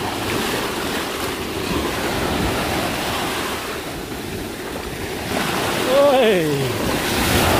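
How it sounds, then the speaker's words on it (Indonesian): Strong ocean waves roar continuously near a family campsite in heavy rain and strong wind, loud surf mixed with gusty wind noise, and a person shouts briefly over it. "Wow, kencang banget ombak."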